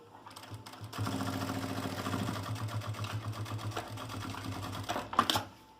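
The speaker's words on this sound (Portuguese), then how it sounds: "Aí é só passar a costura reta." Sewing machine stitching a straight seam on a small zippered pouch, a close, rapid mechanical whirring rattle that speeds up after a soft start, runs steadily for several seconds, then stops with a clunk.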